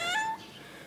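A cat gives a single short, high meow at close range, then a quiet backdrop of room or street noise follows.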